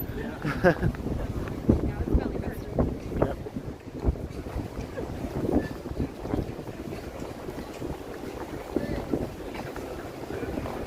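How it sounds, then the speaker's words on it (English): Gusty wind buffets the microphone in uneven rumbling bursts, loud and close, with people talking faintly underneath, outdoors along King Street West in Toronto. "Yeah, it's pretty windy. It's breezy, yeah."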